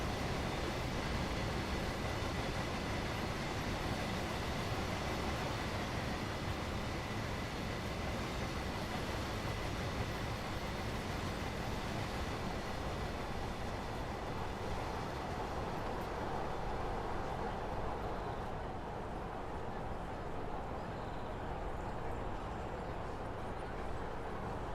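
A long, steady rumble of a freight train rolling past in the video game Train Sim World 5, with continuous rattling and clatter that eases slightly toward the end.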